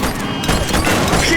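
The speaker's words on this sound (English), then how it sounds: "She's shooting!" Rapid gunfire from The Precinct video game, a dense loud burst of shots over a short moment, mixed with shouted voices.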